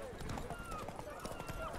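Horse hooves clip-clop in a quick steady rhythm in The Witcher 3: Blood and Wine, close by, mixed with a busy town crowd and voices talking over them.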